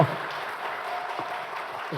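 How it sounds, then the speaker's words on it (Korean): Audience at a talk concert in Changwon breaks into brief, steady applause, a dense patter of clapping across the room. "여러분들 박수 한번 부탁드릴게요"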